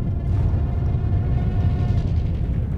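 Heavy missile explosions in the mech combat game Armored Core VI form a dense, continuous, loud rumbling barrage of blasts with no voices.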